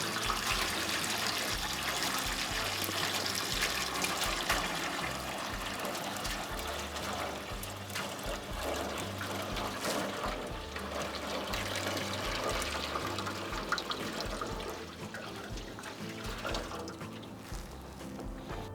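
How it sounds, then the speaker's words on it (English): Maple sap is poured from a bucket into an evaporator pan for syrup making, a steady continuous splash and trickle of liquid running close by for the whole stretch, with no talking. "we pour the sap in"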